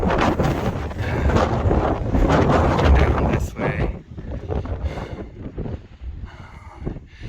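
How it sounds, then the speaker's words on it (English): Strong gusty wind buffets the microphone on a mountain summit on the Appalachian Trail near the Maine border, with loud roaring rushes, easing partway through, while a person speaks briefly beneath it. "It's super windy"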